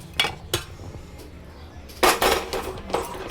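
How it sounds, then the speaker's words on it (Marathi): Lentils and rice are dry-roasted in a kadhai. Sharp metallic clinks and scrapes of a utensil against the pan come in scattered bursts, close and clear, with a busier cluster in the second half. "आता हे एक एक करून सगळं घेते भाजून"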